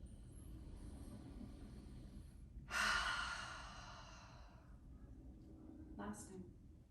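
During a yoga flow, a person takes a deep breath in and gives a long, audible exhale. The breath is close and soft, a second faint breath follows, and a low rumble sits underneath.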